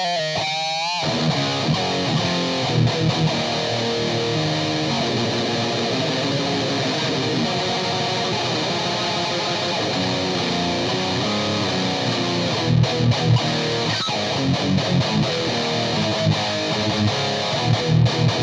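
Distorted electric guitar played through a Ghost Note Audio Vader 140 amp, a continuous loud, dense, focused distorted tone with chords and riffs sustained throughout and no talking.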